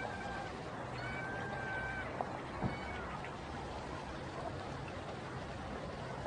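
A cat meows a few thin, drawn-out times during a flood, faint and somewhat distant over a constant wash of rushing water.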